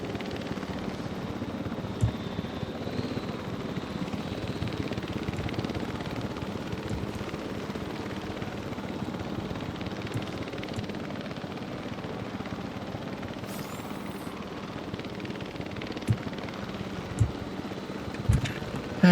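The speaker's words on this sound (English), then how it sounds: "Curious where the helicopter's gonna go for this one." Steady helicopter rotor and engine drone from a flying helicopter in the video game Jurassic World Evolution 3, heard alone at a constant moderate level with a faint airy wash on top.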